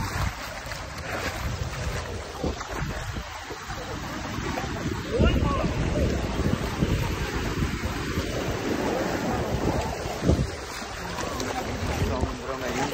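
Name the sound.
sea waves on the beach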